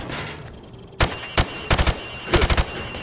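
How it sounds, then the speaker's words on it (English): Call of Duty 4 rifle shots are fired at targets through plywood: a single sharp shot, another, then a quick triple burst and a rapid run of four shots, loud and close. "I want you to shoot the targets through the wood."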